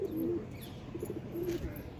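Pigeons that have just landed on the ground coo nearby, two low throaty coos a moment apart over soft outdoor background noise.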